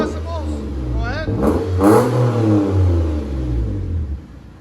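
A 2013 Lexus IS 350 F Sport with a Flowmaster Flow FX dual exhaust revs up in a few close, loud pulls, its deep, clean engine note rising and falling while voices talk over it.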